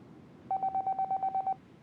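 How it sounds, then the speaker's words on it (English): A phone ringing in the video game 428: Shibuya Scramble, heard as a rapid run of about ten even electronic beeps over roughly one second, clear and close above a faint background hum. "Then Kanan's phone rang, and she reached to answer it."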